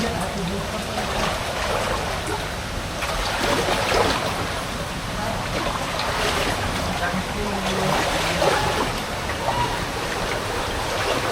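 Water rushing down a rocky cascade at Melkhum, a steady broadband roar filling the whole stretch with people talking over it.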